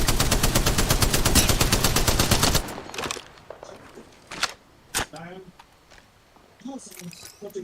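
Automatic gunfire in the shooter game Apex Legends, a dense rapid burst for a few seconds and then scattered single shots and clicks, with a voice talking over it.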